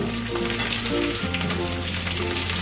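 Cubed capsicum going into onions frying in a hot pan, giving a loud, dense, continuous sizzle with a steady crackling hiss close by.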